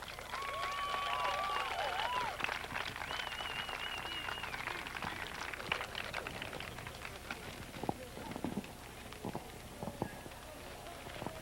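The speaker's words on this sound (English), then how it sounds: "Let's have a big round of applause for Becky." Applause from a coronation crowd at Pepper Fest, a dense steady patter of many clapping hands that continues for several seconds and thins out toward the end, with some voices mixed in.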